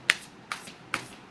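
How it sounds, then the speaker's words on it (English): Tarot cards being shuffled, three crisp riffling bursts spaced roughly evenly apart, soft and close, with quiet gaps between them and no voices. "You saw me shuffle."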